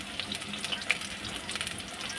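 Green chili fritters stuffed with potato fry in oil, making a busy, close bubbling sizzle with small pops, steady from start to end and with no talking.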